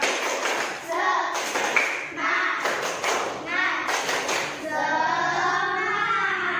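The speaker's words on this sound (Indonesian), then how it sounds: "Tepuk tangan buat Jihan." A classroom of children claps for a classmate in a rhythmic cheer, bursts of clapping rising and falling alongside children's voices and a teacher talking.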